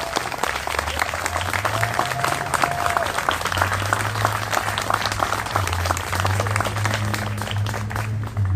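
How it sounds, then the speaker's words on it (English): Sustained applause from an outdoor crowd honoring children at a mural dedication, steady dense clapping throughout with a few voices mixed in underneath. "one more round of applause for all the kids"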